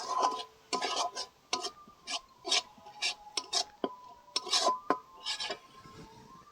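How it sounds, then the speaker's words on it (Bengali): Spices sizzle and are stirred in a pan with oil: Kashmiri chilli powder, coriander powder and vegetable masala. Repeated scraping strokes come in an uneven rhythm, close and fairly quiet, with no talking. "এবার ভালোভাবে ভেজে নেব"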